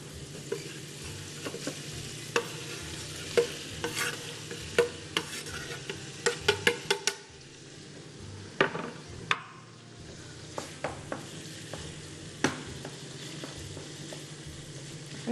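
A beef filling sizzles and fries in a hot clay pot for Albanian tavë, a steady crackling hiss broken by repeated clinks and scrapes of stirring, close and continuous with no talk.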